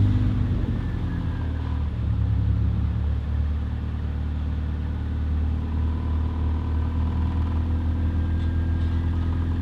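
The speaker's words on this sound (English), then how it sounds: "the battery on the Civic died, so I'm just gonna have to jump start it" A Honda Civic EM1 idling after a jump start, a steady low engine rumble held close and loud throughout, with no talk.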